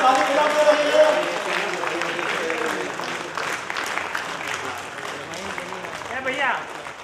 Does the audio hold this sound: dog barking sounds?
no